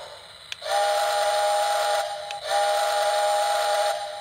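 Steam whistle from a Lionel Legacy HO-scale Nickel Plate model train sounds in two long, steady, hissy blasts, close and loud, separated by a short break, with a small click at the start.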